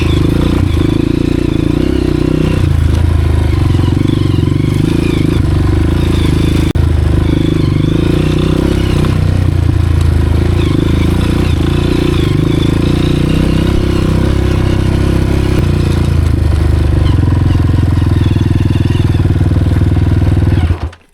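A Honda CRF 230F dirt bike engine pulling in its very low first gear on a steep mountain trail, a loud, close, continuous low throbbing drone with clattering and small shifts in pitch throughout.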